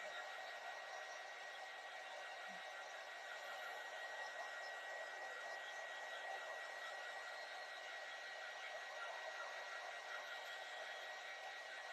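A hair dryer blows a steady, even hiss while drying pieces of a snowman stand craft, a continuous faint whoosh with no pauses.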